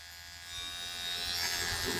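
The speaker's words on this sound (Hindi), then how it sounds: "ट्रिमर पे कंघा लगा के 2 नंबर पूरी बियर्ड कर ली" Electric beard trimmer fitted with a number 2 comb cutting through a full beard, a close, quiet buzzing rasp that swells slightly as it moves across the hair, with no talking.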